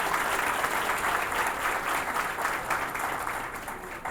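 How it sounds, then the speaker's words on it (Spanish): Sustained, dense applause from a large audience greeting Luis Abinader, president of the Dominican Republic, at a celebration of 64 years of national industry; steady clapping throughout, fading slightly near the end. "para quien pedimos un fuerte aplauso"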